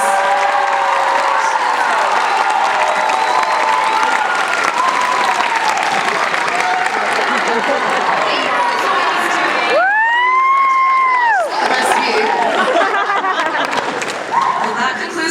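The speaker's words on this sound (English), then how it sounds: "can we get one more round of applause" A convention crowd at a Baldur's Gate panel breaks into loud sustained applause with cheers and whoops, voices mixed throughout, while a brief high whistle-like tone rises midway before the clapping and cheering carry on.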